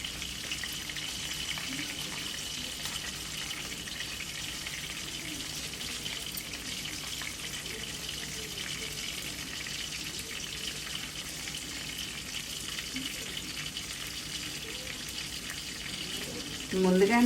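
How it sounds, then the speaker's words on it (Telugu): Chicken tandoori leg pieces coated in cornflour fry in hot oil, giving a steady, even sizzle that runs throughout, with a louder crackle rising near the end. "అందువల్ల ఇలా ఫ్రై చేసుకుంటే ఈవెన్గా వేగి చాలా టేస్ట్గా ఉంటుంది."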